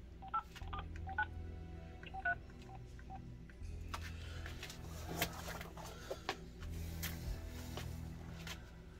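A telephone being dialed: a quick series of quiet, distinct keypad tone beeps in the first few seconds, followed by low background hum and scattered faint clicks and rustles.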